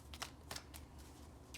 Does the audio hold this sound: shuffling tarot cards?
yes